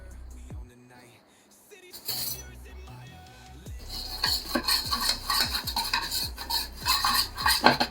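Oil, peri peri masala, chilli flakes and oregano are mixed in a bowl: a spoon clinks and scrapes against the bowl in quick, uneven strokes, growing busier and louder after a quiet start.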